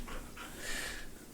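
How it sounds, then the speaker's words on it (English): An animal visiting an indoor studio pants softly in a few quick, breathy bursts, faint and close against a quiet room background, with no speech. "Yes, you can hear the panting."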